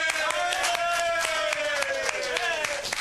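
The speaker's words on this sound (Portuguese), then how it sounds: "todo mundo aplaude" Studio-style applause from an audience after Caetano Veloso's fall, brisk individual claps sounding over a sustained tonal voice and chatter, moderately loud and continuous throughout.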